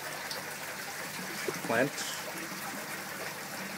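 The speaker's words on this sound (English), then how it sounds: "There's one of the plant containers that's being emptied right now." Water drains and trickles steadily from an emptied plant container in a home aquaponic greenhouse, a soft continuous wash beneath a brief spoken phrase.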